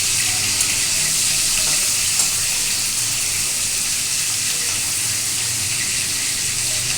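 Fish fry lightly in a little oil, a steady, loud sizzle with no talking that holds unchanged from start to finish.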